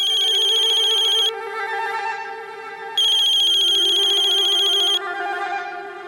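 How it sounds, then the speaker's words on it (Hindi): Incoming-call phone ringtone, a loud electronic melody playing in two bursts with a brief pause between, clear and close with no talking. "देखा, सचमुच भगवान जी का फोन आया है।"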